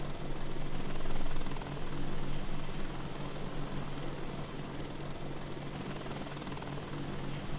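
A Chinook CH-47 helicopter from a mod in the video game DayZ drones steadily with a loud rotor and turbine roar, swelling slightly early on and then holding even throughout, with no talk over it.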